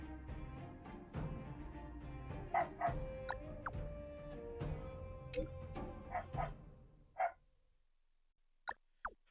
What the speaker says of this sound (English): You can hear the stupid dog.